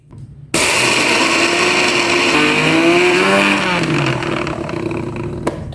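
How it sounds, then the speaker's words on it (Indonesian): A kitchen blender grinds ingredients for homemade holiday cookie dough, roaring loudly and steadily for several seconds after a sudden start, its motor pitch shifting slightly as the contents break down. "Wis Lik, sekarang kita langsung OTW ke blender saja, nggih."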